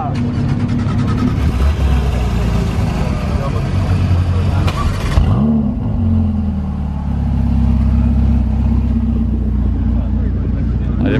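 A Ferrari 488 Pista at a Cars & Coffee meet in Luxembourg fires up and revs, a loud engine roar that shifts midway into a lower, rumbling idle while people talk nearby.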